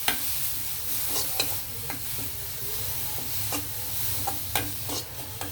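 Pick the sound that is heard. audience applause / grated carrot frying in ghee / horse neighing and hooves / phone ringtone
grated carrot frying in ghee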